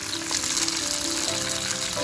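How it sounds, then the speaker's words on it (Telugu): Mint leaves and green chillies frying in a pan for chutney, a steady close hiss and crackle of oil running evenly throughout, with no talk. "కొంచెం ఇలా ఫ్రై చేసుకుంటే సరిపోద్ది."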